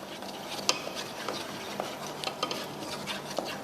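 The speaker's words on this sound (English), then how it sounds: "then you saute the flour until fragrance" Flour sautéed in plenty of oil over low heat for seafood thermidor, quiet scraping stirs and occasional utensil clicks against the pan under a faint sizzle, close and without talk.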